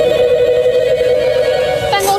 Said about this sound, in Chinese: 每一支电话都在响